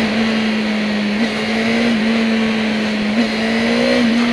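A 2006–2011 Honda Hornet motorcycle engine runs loud and close, holding a steady pitch with a few brief blips of revving and no talking.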